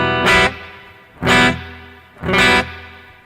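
Three separate sustained chords ring out one after another with a bright, airy reverb, each decaying into a shimmering tail before the next begins.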